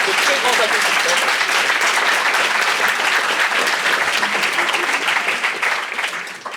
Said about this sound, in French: Et voilà, de très grands applaudissements.